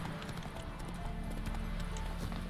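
Horse hooves clip-clopping steadily in the Witcher 3 video game, a continuous rhythmic trot heard amid dense game background sound.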